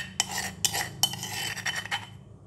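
Powdered chili is tipped into a mixing bowl with metal utensils, giving a few sharp clinks and then a run of lighter scraping taps, close by over a low background hum.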